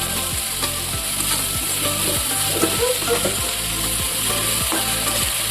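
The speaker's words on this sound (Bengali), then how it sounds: "এখন তো আমরা ভালো করে ভেজে নেবো।" Tomato and onion paste fries in a pan with a steady, close sizzle, while a spatula scrapes and stirs in a regular rhythm of strokes, roughly one each second, with no one speaking.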